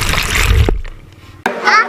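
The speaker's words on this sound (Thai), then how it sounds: "บังเอิญมีก๊อกน้ำอยู่ด้านหน้าเลยขอเขาล้างรถหน่อย" Tap water splashes over a touring bicycle being washed outside lodging in a Vietnamese town, a close, loud spray and splatter that cuts off, then resumes briefly with a voice in the background.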